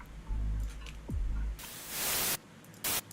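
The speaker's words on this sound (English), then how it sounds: "you start with white noise" Vocoder-processed white noise riser in a music production session, bursts of bright hiss swelling and cutting off, with a low tone and a falling sweep before a long loud noise wash and a short final burst.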